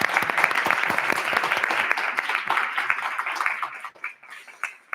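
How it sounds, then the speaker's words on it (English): Audience applause at an animal welfare advocacy conference, a dense round of clapping from a crowd that stays loud and steady, then thins out and fades over the last second. "please a big round of applause for Daniela,"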